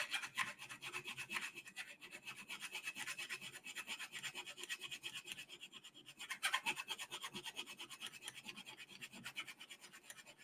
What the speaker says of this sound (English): Aluminum, copper, and brass really flake away when you start filing like this.